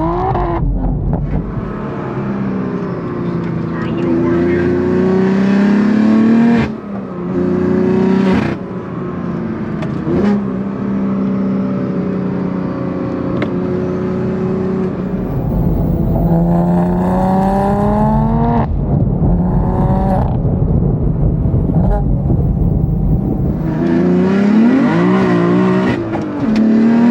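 A manual BMW F82 M4 built to over 900 wheel horsepower drives and revs hard, its engine rising and falling through repeated loud pulls and gear changes, close and continuous with no talking.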